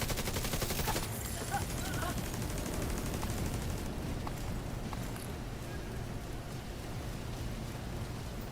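Rapid automatic gunfire from a Capacitor rifle in The Division 2, a dense clattering burst that fills the first few seconds before thinning to scattered shots, with faint game ambience behind.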